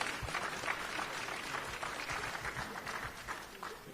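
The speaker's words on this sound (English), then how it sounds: "A final round of applause." Audience at a closing media briefing for EU–South Africa leaders gives a final round of applause, steady moderately quiet clapping from a room of people lasting throughout.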